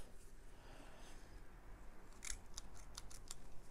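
Garden twine trimmed with scissors while building a homemade DIY trellis: a rapid run of crisp, close snips near the end, preceded by quiet rustling handling.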